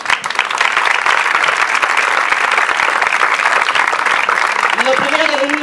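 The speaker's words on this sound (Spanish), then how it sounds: "yo quiero pedir ahora un aplauso muy fuerte para Elena Paso Real" A poetry reading audience at the Regional Library breaks into loud, dense applause for the poet, a thick, continuous roar of clapping that holds steady until a voice starts speaking near the end.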